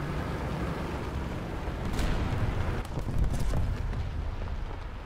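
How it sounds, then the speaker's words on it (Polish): Ammunition rack explosion of a tank in a tank video game, a dense, sustained rumbling blast with crackling debris bursts, loud and continuous for several seconds without speech. "I eksplozja magazynu amunicji."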